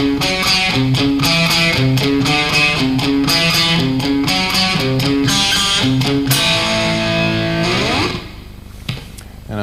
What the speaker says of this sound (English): This first one has, it's mostly for the right hand, picking lick.